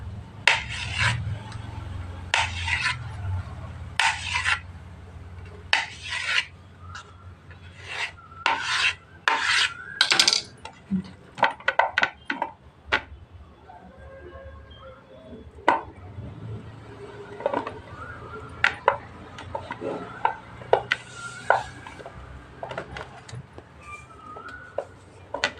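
Homemade neem soap being cut into small pieces, with a series of short rasping, scraping strokes in uneven bursts, some quick runs of several cuts, close and fairly loud.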